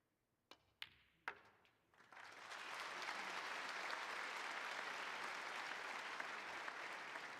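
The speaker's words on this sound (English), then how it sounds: "a nice round of applause" A few sharp clicks of snooker balls colliding in a quiet arena, then the audience breaks into steady, sustained applause at a UK Championship qualifying match that carries on evenly to the end.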